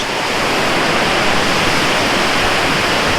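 River water flowing under a bridge near Jasper, a steady broadband rush that stays close and loud without a break.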